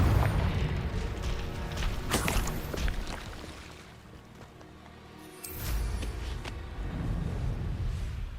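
The Confringo fire spell from Hogwarts Legacy bursts with loud booming explosions and crackling impacts, several heavy blasts separated by a quieter lull before another eruption of noise.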